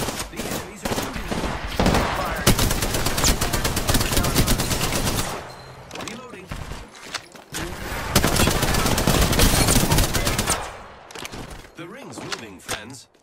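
Rapid automatic gunfire in the Apex Legends video game, loud sustained bursts of machine-gun fire with brief pauses, a squad voice speaking over parts of it.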